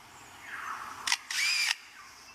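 Lyrebird in a forest imitating a camera with a motor drive: a short burst of shutter clicks followed by a longer whirring wind-on run, close and clear over faint background hiss.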